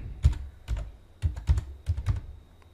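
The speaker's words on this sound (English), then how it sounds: "type your computer password" Password keys tapped on a computer keyboard during a Linux install, a handful of crisp close clicks in small irregular clusters with short pauses between, alone without speech.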